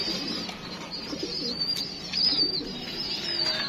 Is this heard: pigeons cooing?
yes